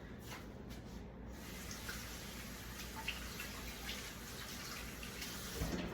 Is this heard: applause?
no